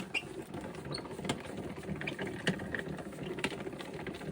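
A die-cutting machine cuts cardstock shapes for a scrapbook page: a quiet, uneven mechanical whirring with scattered small clicks and taps.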